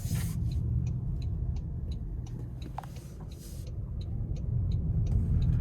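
A 2026 Toyota Camry SE hybrid drives in normal mode, and its low, steady road and engine rumble is heard from inside the cabin, swelling slightly toward the end, with faint ticking and no talking.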